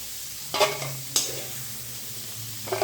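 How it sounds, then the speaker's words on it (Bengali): Crabs frying in hot mustard oil in a wok: a steady sizzle fills the clip, broken by two sharp stirring scrapes early on and another near the end, with no talking. "তেলটা খুব ভালো করে গরম হয়ে গেছে তখন এর মধ্যে কাঁকড়াগুলো দিয়ে ভেজে নিতে হবে"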